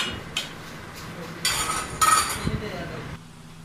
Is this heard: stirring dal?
yes